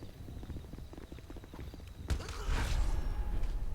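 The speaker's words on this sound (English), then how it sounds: "I can hear the footsteps." Footsteps in GTA Online, a man approaching on foot with a steady clopping, hoof-like rhythm that grows louder and busier after a sudden burst of noise midway, with no voices over it.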